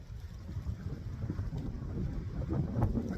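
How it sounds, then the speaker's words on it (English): A strong wind rushes outdoors in the Upper Peninsula of Michigan during deer season, a steady low roar buffeting the microphone with no other sounds. "the wind's a little bit high today"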